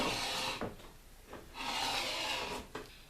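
Scissors or a rotary cutter slide along a ruler through pillowcase fabric in two long, rasping strokes with a short pause between them, close and fairly quiet.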